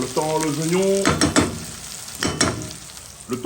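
Onions sautéing in a pan for a sounouk with brinjal, a close, steady sizzle broken by several sharp stirring scrapes and clatters.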